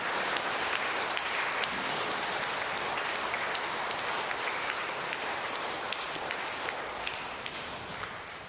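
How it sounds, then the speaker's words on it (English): Schoolboys at a speech day applaud their staff with steady, even clapping that fills the hall throughout, moderately loud and unbroken. "boys, I think we need to give our staff from year 1 to year 8 a round of applause"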